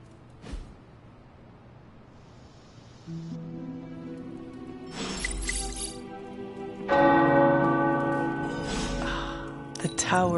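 Tower bells ringing in the video game Marvel's Midnight Suns, several clangs with long ringing decay that swell and overlap, heard fairly faintly amid ambient game sound.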